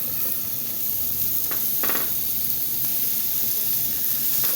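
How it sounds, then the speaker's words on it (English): Continuous crackling sizzle of steak frying in a hot pan, a dense hiss with a brief scraping stir in the middle. "you want to hear them start to sizzle"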